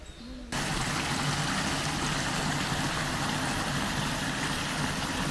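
A waterfall pours into a lagoon, a dense constant rushing wash that starts abruptly after a brief quiet moment and holds evenly loud throughout.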